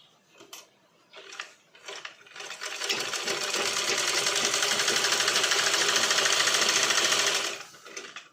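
A sewing machine stitches lining, a few short bursts at first, then one steady, loud run of rapid mechanical whirring for several seconds before stopping.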